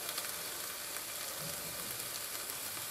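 Onions fry in oil for frankfurters with onion, a soft continuous sizzling hiss that stays even and moderately faint for a few seconds with no speech.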